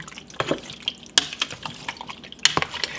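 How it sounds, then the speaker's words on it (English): Meatballs in sauce get stirred in an Always Pan, with wet scraping, soft plops and light clinks of the utensil against the pan repeating at an uneven pace close by. "Now we add the meatballs. And I'm stirring as I go"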